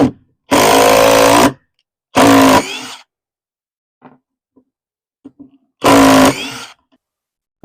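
Hercules cordless drill on a 2.0 Ah battery driving 2-inch drywall screws: three loud, close bursts of whirring motor, each about a second long, separated by quiet gaps with faint clicks and handling noises.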